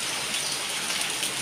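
Heavy rain pours steadily outside a home, a dense, continuous hiss of falling water close by with no voices.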